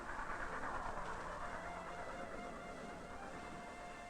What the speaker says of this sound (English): pulled eastward over mountains and deserts by oil-burning locomotives